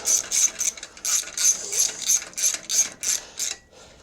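Ratchet tightening a bolt on a Craftsman riding mower, about a dozen quick close clicking bursts in an even rhythm, slowing and fading at the end, no talking.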